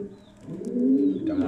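Pigeons, a white female and a male, coo up close in a low, throaty, warbling call that rises and rolls over about a second and a half.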